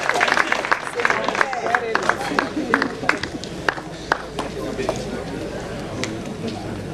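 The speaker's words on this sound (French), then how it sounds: "Est-ce qu'on peut applaudir très fort?" Wedding guests at a religious ceremony clap in scattered, uneven bursts, sharp individual claps standing out over a murmuring crowd and voices.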